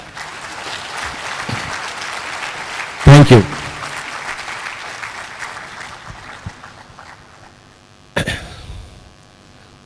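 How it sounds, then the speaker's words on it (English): Audience applause at a meditation talk, a broad wash of clapping that swells and fades over several seconds, broken by a loud voice briefly speaking and a sharp bump near the end. "give a big clap for science of meditation."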